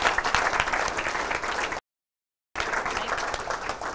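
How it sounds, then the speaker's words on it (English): Crowd applause at a university JavaScript talk as the next speaker takes the stage, sustained even clapping broken by a brief silent gap before resuming just as dense. "Give a round of applause for David Kay coming up next"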